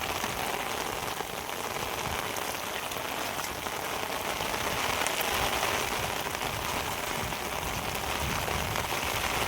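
A downpour hammers steadily on nearby surfaces over a rice paddy field, a thick unbroken wash of raindrops with no talking.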